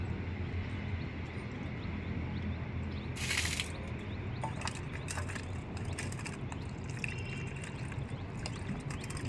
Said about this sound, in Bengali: এই যে টমেটোগুলো ভালো করে ধুয়ে নেব ভালো করে জল দিয়ে ধুবো